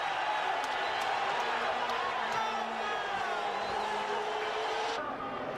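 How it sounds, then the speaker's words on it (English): A large crowd cheers and roars at a 1989 Formula 1 race after a rival's engine blows and he spins on his own oil, a steady wash of noise with race cars whining past and a voice talking over it. "the crowd cheered this blow for a Ferrari enemy"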